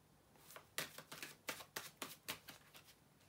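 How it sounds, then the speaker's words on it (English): Tarot cards are shuffled by hand in a quiet room, a close series of about ten crisp riffling snaps in quick uneven rhythm. "bear with me a second, guys, to shuffle the tarot cards"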